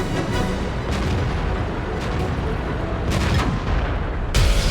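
Tank cannon fire from World of Tanks: repeated heavy booming shots of armor-piercing shells, loud and close, with dense battle noise between blasts.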